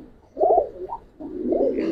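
A silver Giribaz pigeon coos close and clear, two rolling throaty phrases separated by a short dip, the second longer and sustained.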